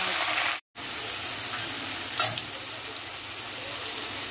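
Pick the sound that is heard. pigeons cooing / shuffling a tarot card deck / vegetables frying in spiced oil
vegetables frying in spiced oil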